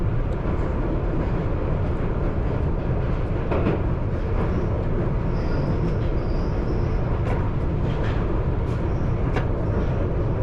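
A London Underground Piccadilly line train rolling at 30 mph, a loud continuous rumble of wheels on track with rhythmic clicks and brief high squeals from the rails.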